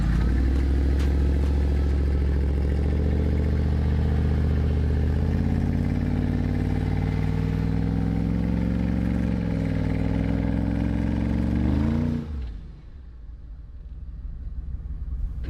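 A Mercedes G-500 6x6 Brabus off-road with all wheels locked, its engine droning loud and close under throttle for about twelve seconds, the pitch climbing slowly before it drops away suddenly into a quieter idle.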